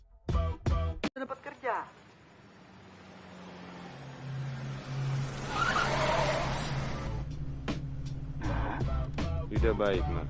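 Johnny's car pulls up with tires skidding and squealing in a long screech that builds and fades in the action film Merantau, framed by short bursts of dialogue and thuds at the start and end.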